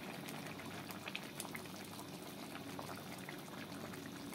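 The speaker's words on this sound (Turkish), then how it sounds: "pilavımız gördüğünüz gibi tıkır tıkır pişiyor" A pot of vegetable bulgur pilaf simmers on the stove with steady soft bubbling and faint pops, close by and quiet with no talk.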